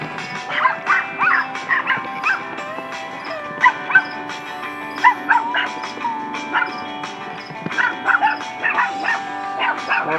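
Several dogs bark and yip repeatedly at close range, in irregular bursts with some whimpering between them.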